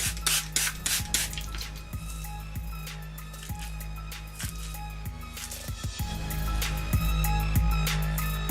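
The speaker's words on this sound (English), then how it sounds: "I'm gonna spray it with water first." A spray bottle mists water onto low-porosity hair in repeated short, sharp hisses at an irregular rhythm, close and clear, with soft rubbing and handling noises between squirts.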